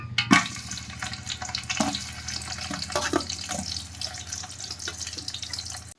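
Two medium-sized sliced onions dropped into about 200 ml of hot oil for chicken biryani, a steady loud sizzle and crackle with a sharp hiss as they hit the pan and occasional stirring clatter.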